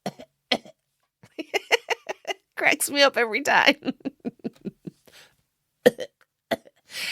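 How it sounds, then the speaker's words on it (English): Dry, raspy dying coughs from The Last of Us video game come in short bursts, some in quick clusters, with a voice speaking in between and afterward. "gotta love those like dying dry coughs"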